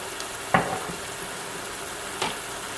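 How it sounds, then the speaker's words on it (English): Tomato fries quietly and steadily in a pot, with a couple of sharp clinks from a utensil stirring it. "So my tomato's been frying."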